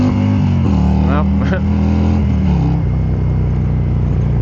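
A 2023 Harley-Davidson Road King Special engine revving and pulling up through low gears with a steady deep rumble and a quick shift, loud and close, with a rider talking over wind and engine noise.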